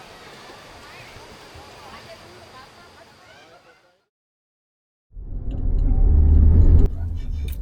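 A river babbles continuously at first, then cuts to silence before a louder rushing, rumbling noise takes over.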